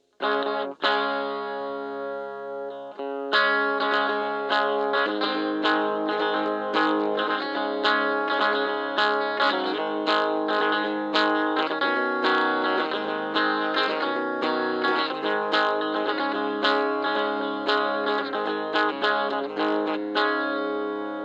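Clean electric guitar through an EVH 5150 III micro stack with the gain fully off plays a string of distinct plucked notes and chords, dry and close, with crisp attacks ringing out after a brief pause near the start.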